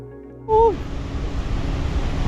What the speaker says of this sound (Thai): สุดยอดมหาน้ำตกแห่งลาวใต้ครับทุกคน